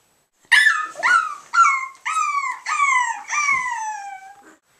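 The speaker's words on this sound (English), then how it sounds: "A dog." A dog gives a distress call: a run of six whining yelps, close and clear, each falling in pitch, spaced at steady intervals with no other sounds.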